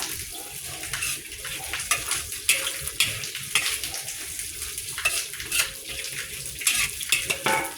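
Pork meatballs and fresh bamboo shoots stir-fried in a pan: steady sizzling with repeated scraping and clinking of a utensil against metal, close and continuous, no talking.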